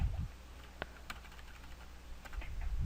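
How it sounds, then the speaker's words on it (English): Keys clatter on a computer keyboard in a few short, sparse bursts of tapping over a low steady background hum, no talking. "type something in,"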